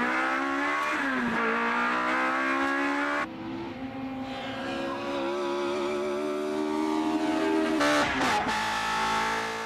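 A Toyota AE86 drifting on track, its engine revving high with pitch swooping up and down while tires squeal through the slides, loud and close throughout.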